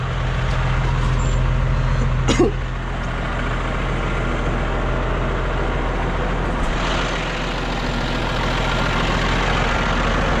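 Truck engine in rural Thailand, used to haul a livestock-manure cart, idles loud and close with a rough low rumble that swells slightly mid-clip, with a short sharp hiss or knock near the start.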